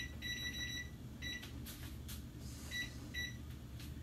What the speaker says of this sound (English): what I'm gonna do is put the timer on for 8 minutes